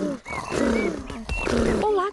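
Cartoon children's voices imitate a contented tiger purring and rumbling, in two long growly bursts with high voiced tones over them, close and loud in an animated children's show.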